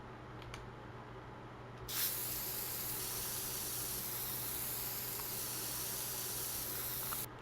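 A steady, loud spray hiss fills the space as dirt terrain paint is brushed onto the ground in The Sims 4, holding constant for several seconds before cutting off.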